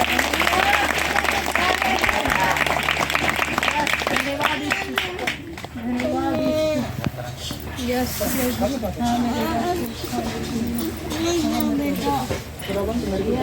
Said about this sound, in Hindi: यहाँ से लेकर जोर से एक बार ताली बजा दो